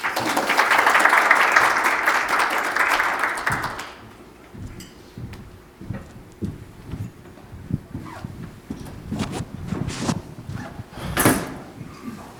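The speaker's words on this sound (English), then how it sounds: "Let's give them a warm round of applause" Applause from a conference audience for panel speakers at an internet growth session, loud and dense for about four seconds, then fading into scattered claps, thumps and room noise.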